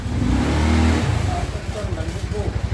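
A Honda Scoopy i scooter with a faulty fuel pump revs loudly up close, its engine surging and then sagging into an uneven, bogging idle, while a voice talks over it.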